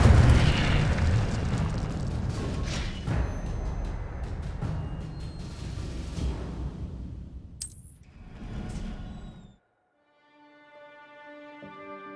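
The Incendio fire spell is cast in Hogwarts Legacy, producing a loud, roaring fiery burst that rumbles for several seconds, then drops into near silence before soft game ambience returns.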